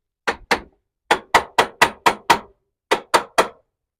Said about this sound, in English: I'm going to go grab the hammer.